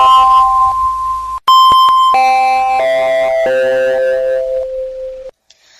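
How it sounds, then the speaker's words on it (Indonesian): Electronic school bell chime marking the start of class, a clear, loud sequence of sustained melodic tones stepping through several pitches over about five seconds, ringing alone before a brief pause. "bel tanda masuk telah berbunyi"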